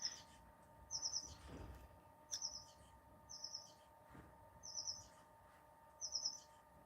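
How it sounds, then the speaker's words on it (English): Short bursts of high bird chirps repeat about once a second over a quiet, faint background hum, with no talking. "You can hear the birds"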